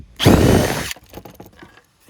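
A power drill backs a screw out of cumaru hardwood deck boards in one short, loud whir, followed by quiet scraping and tapping handling sounds and a brief final burst.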